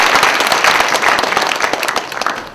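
An audience at a job-preparation camp applauds, a dense burst of many hands clapping close and loud that fades slightly toward the end, with no talking over it.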